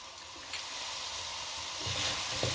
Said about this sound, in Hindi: घी हमारा गर्म हो गया तो इसके अंदर फर्स्ट मैं गार्लिक डालूंगी